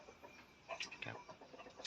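Young chickens about three to four months old cluck softly inside a farm coop, with faint scattered calls over quiet background noise.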